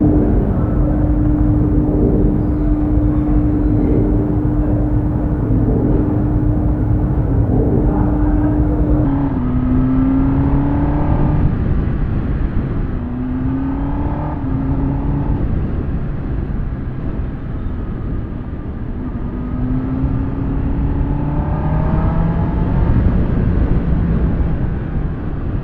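A BMW S1000RR M Sport motorcycle engine runs continuously and loudly while riding, with steady drone and several rising and falling pitch sweeps as the revs shift, alone without talk.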